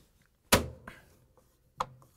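A replacement plastic grille on a Whirlpool, KitchenAid or Maytag refrigerator is pressed into its openings, giving one sharp snapping click followed by two softer clicks, close and alone.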